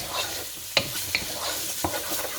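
Chilli curry sizzles in a frying pan while being stirred around, a steady close hiss broken by a few scraping knocks of the utensil, with no voices.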